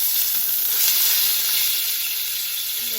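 A steak with rosemary sizzles steadily in a hot pan, a close, bright, crackling hiss that stays even throughout with no voices.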